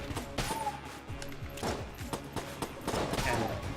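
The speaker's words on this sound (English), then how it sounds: "Just firing as accurately as we can." Rapid gunfire crackles in the dungeon-crawler shooter Enter the Gungeon, bursts of quick shots over an electronic music track at a moderate level, with someone talking over it.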